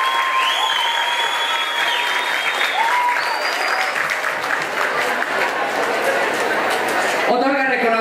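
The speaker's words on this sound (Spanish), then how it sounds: "Ese aplauso que se escuche." Loud crowd applause at a pride march award ceremony, a dense sustained roar of clapping with cheering and whistles mixed in, continuous and close throughout.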